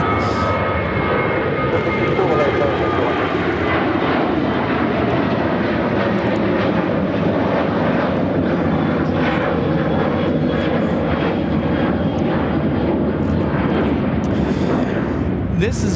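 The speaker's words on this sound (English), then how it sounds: "United Airlines 1693 taking off to Pittsburgh on the 737-700" A United Airlines Boeing 737-700 takes off at Chicago O'Hare, its engines giving a sustained, loud jet roar with a deep rumble beneath, steady throughout, while faint voices sit in the background.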